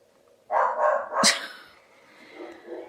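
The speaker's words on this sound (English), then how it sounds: "Oh, Hank barked" A dog barks a few times in quick succession at moderate distance, with a sharp final yelp, then the room falls quiet.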